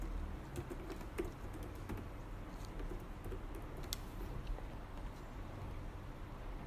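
Typing a search on a computer keyboard: faint scattered key clicks in an irregular rhythm, close but quiet over a low background rumble, no talking.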